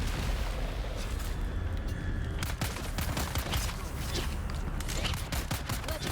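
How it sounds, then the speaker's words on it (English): Rocket and grenade explosions burst in the video game Dune Awakening, a dense volley of sharp, loud cracks and booms piling up over a few seconds with rumbling underneath. "We got 1 rocket there."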